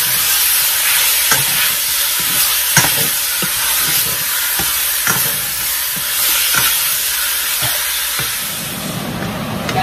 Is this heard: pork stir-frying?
yes